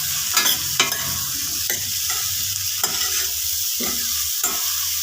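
Bitter gourd sliced thin for theeyal sautés in a pan with a steady sizzle, broken by several distinct scraping stirs of a spoon, close and alone with no voices.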